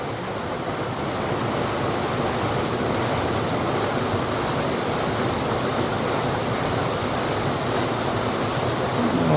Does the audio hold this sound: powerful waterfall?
yes